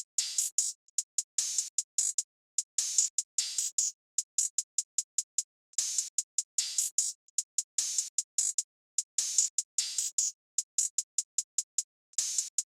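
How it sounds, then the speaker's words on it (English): Crisp UK drill hi-hat loop from a sample pack, playing alone as fast, bright ticking bursts with stuttering rolls and short gaps, steady and close throughout. "I decided to use this hi-hat pattern that sounded like this."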